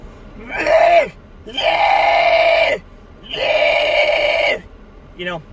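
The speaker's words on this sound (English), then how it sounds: "here's the screaming demonstration" A vocal scream demonstration with the mouth shape altered, three long sustained screamed bursts separated by short pauses, loud and close, ending with a brief fourth burst.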